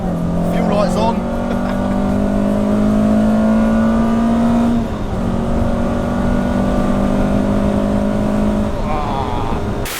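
A Peugeot 106 Rallye hot hatch engine revs hard, a loud rising whine that climbs steadily, breaks off briefly at a gear change and then climbs again, with wind and road roar behind it and someone talking over it.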